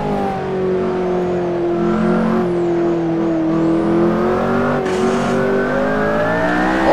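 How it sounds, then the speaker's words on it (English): McLaren P1 engine in a racing video game, a loud sustained tone rising and falling as it revs, with a brief hiss from the blow-off valve partway through. "Oh, lovely blow-off valve."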